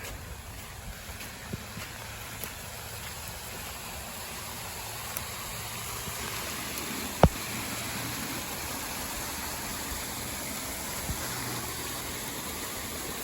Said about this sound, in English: I can hear the raging water